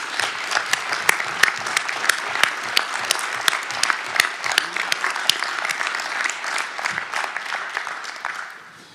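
Applause at a town council meeting in Bry-sur-Marne, steady close clapping from a room of attendees with a few sharp individual claps standing out, sustained for several seconds before fading.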